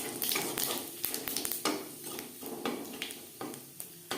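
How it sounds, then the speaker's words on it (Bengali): A dried red chilli and whole cumin seeds crackle in the leftover oil from frying fish, a bright sizzle broken by sharp spatters and the light clink of a spoon against the pan. "মাছ ভেজে নেওয়া তেলে ফোড়নে দিয়ে দিলাম একটা শুকনো লঙ্কা"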